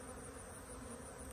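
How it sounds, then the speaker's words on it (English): Dense, steady buzzing of many honey bees crowding a hive frame pulled from a swarm trap, close and continuous with no voices. "There's a lot of bees on this first frame"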